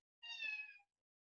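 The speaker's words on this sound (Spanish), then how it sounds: "hay unos gatitos que están llorando" Kittens meowing outside a room, a single clear cry of under a second, fairly faint and alone with no talk.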